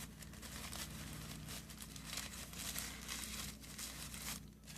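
A paper seed packet being folded down by hand, a faint, steady crinkling and rustling of paper throughout, close to the listener, with no one talking.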